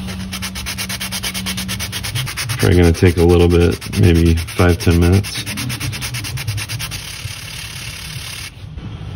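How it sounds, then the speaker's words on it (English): A small finger sander buzzes steadily and close, lightly sanding a plastic 3D printer part in short strokes while someone talks over it. "So I'm using this little finger sander, just lightly sanding."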